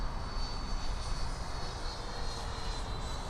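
A 90mm EDF RC F22 jet plane roars at full power on takeoff, a steady, loud, broadband whoosh that holds without break through the whole stretch.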